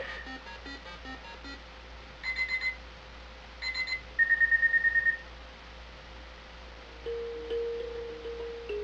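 A classic alarm clock ringtone from an iPad plays in short bursts of rapid, shrill beeping, separated by pauses, fairly faint against quiet background hum.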